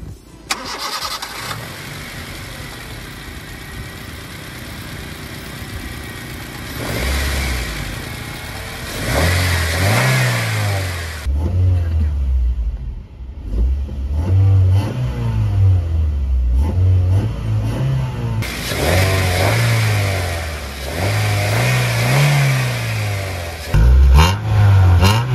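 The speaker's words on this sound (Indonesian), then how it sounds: "Kita dengar suara mesin aja guys sekarang." A Honda Jazz Top Grade engine cranks and starts, settles into a close idle, then revs repeatedly in rising and falling sweeps with short pauses between bursts, clear and without talk.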